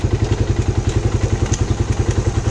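Raider 150 carbureted motorcycle on its double stand, engine running with a steady, rapid thumping beat and rough exhaust pulses, loud and close with no voices.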